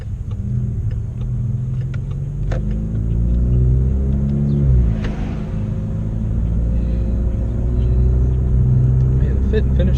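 A 400whp Ecoboost Mustang engine rumbles and accelerates on the road, with a low droning note rising through the gears, loud and steady from inside the car, as people talk over it.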